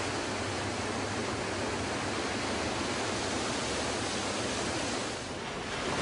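Water rushes out through opened sluice gates in a loud, steady broadband roar that stays constant throughout, with a slight dip near the end.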